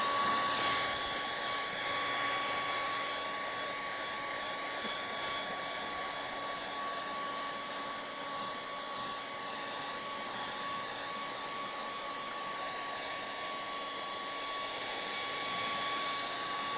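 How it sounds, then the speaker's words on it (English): A hair dryer used as a blower dries wet paint on a painting, a steady loud whooshing hum running unbroken throughout with no talk. "I use the blower to take away the wetness of the paint."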